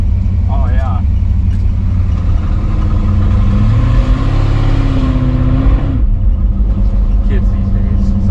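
A 1957 Chevy engine revs loudly through its mufflers with a sustained rumbling roar that rises and falls over several seconds, while people talk over it.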